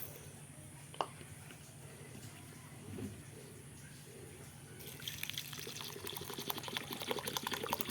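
Water trickles and then pours steadily into a bowl of red lentils set to soak, fairly quiet and close, the flow building louder toward the end after a couple of small knocks and drips.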